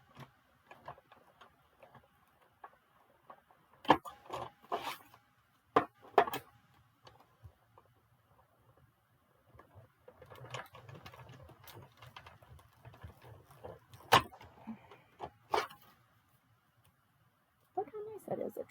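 A die cutting machine cutting and embossing card gives a low, rolling mechanical grind that comes and goes, broken by sharp clicks and knocks from handling, with no talking.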